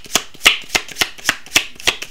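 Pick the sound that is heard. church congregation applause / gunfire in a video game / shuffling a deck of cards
shuffling a deck of cards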